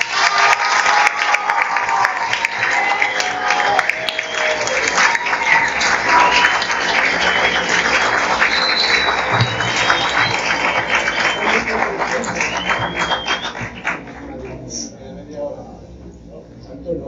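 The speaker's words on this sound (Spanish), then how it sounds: "un aplauso para Tamare" Audience applause for Tamare at a church celebration of the Augustinian Recollect order in Zulia, Venezuela: a dense, sustained wash of clapping with crowd noise and some voices, lasting many seconds before thinning out near the end.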